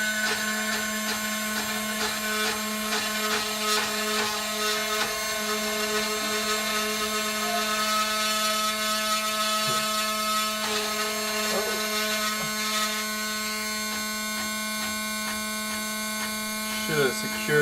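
A Hydrafabber CNC circuit mill spindle makes its first cuts into circuit board stock, giving a steady, loud, high-pitched whine with layered tones that persists unbroken for the whole stretch.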